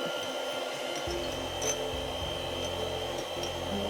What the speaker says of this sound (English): I'm going to cream that with the beater for just a second, probably about a minute, to loosen it up